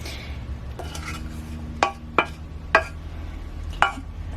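Oats being scraped and dished out of a non-stick pan, with four distinct clinks and scrapes of a utensil against the pan over a quiet room background, no talking.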